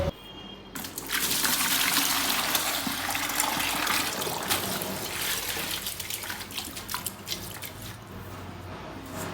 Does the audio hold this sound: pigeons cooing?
no